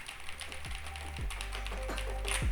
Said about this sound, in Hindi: अब मैं एक मैकेनिकल कीबोर्ड पे टाइप कर रहा हूँ